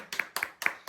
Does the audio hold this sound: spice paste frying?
no